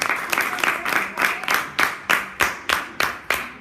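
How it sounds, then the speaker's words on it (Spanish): A church congregation applauds a brother during a sermon. Many hands clap together in a steady, even rhythm, with regular strong beats roughly three times a second over a softer wash of scattered claps. "Un aplauso al hermano."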